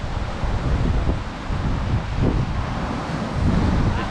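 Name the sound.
north easterly wind and tide on Cardiff foreshore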